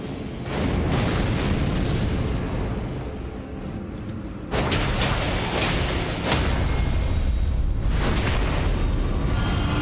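Loud, booming explosions from cannon imps in the video game Elden Ring, a dense roaring barrage that pauses briefly and resumes in heavy bursts.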